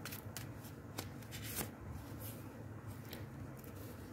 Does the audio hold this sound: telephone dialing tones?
no